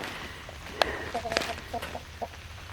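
Hens give a few soft, scattered clucks at a distance over a quiet background.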